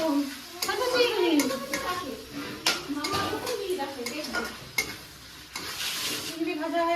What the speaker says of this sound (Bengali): এই দেখ লাল লাল করে ভাজা হচ্ছে চিংড়িগুলো।